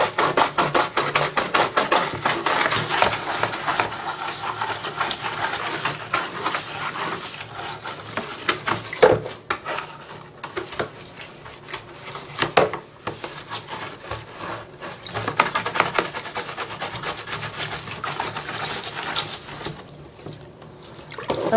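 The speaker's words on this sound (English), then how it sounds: "I'm just going to scrub the bottom of this until I get the big stains out of the bottom" Scrubbing stains off the bottom of a container with water in it, a long stretch of rapid, uneven rubbing and scraping strokes with wet sloshing, pausing briefly midway before resuming.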